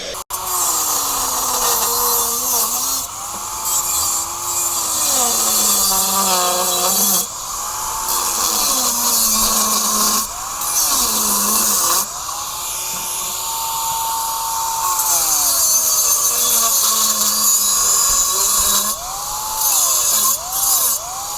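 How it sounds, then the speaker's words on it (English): A power tool grinding off old welds on a homemade exhaust tip, a loud high-pitched whine that rises and falls in pitch in repeated bursts with short pauses, close up. "we're going to cut off my doo-doo welds and fix it up"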